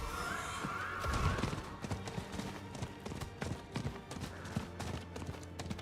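Horse in the Diablo IV video game, galloping with steady clip-clopping hoofbeats and a whinny near the start, over game music and ambience.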